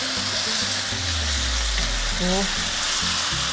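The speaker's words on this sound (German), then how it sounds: "Und die Zwiebeln, die rösten schon an, die werden schon schwarz bald oder braun" Onions sizzle and fry steadily in a very hot pan for a simple chicken curry with browning meat, a continuous close hiss with a few low thumps, and one brief spoken word.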